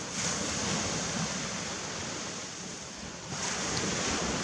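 Ocean waves washing onto a beach beside a campsite, a continuous broad roar of surf with a slight swell and fade midway, mixed with some wind noise on the microphone and no voices.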